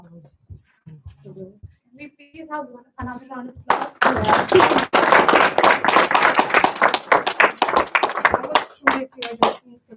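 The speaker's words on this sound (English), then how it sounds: "We please have another round of applause." A few scattered voices and noises give way to loud audience clapping at an International Women's Day 2023 event, many hands clapping energetically and close for several seconds.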